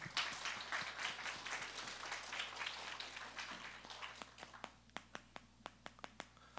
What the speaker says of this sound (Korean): 우리 좀 더 크게 하나님께 영광의 박수를 올려드립시다.